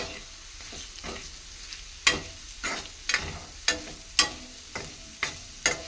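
Potatoes frying in a pan, with a constant low sizzle and regular sharp scraping stirs about once a second, close and fairly loud, with no talking.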